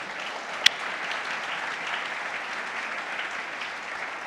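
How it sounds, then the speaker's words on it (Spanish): Church congregation at a sermon gives applause to the Lord, a dense, even roar of many clapping hands that continues at steady volume throughout, with one sharp click near the start. "denle un aplauso al Señor, por favor"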